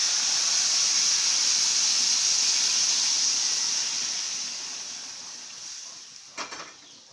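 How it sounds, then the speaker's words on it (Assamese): Water poured into a hot pan while cooking a shewali flower dish gives a loud, steady sizzling hiss that slowly fades, ending with a few faint clinks. "এতিয়া মই পানীখিনি অলপ ঢালি দিওঁ।"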